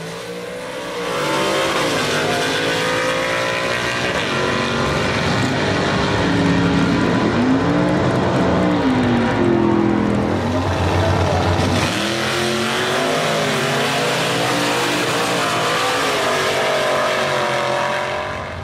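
1936 Ford pickup in a modified production class at a nostalgia drag race, its engine roaring loudly and revving through gear changes as it launches and pulls away down the strip, with a track announcer talking over it.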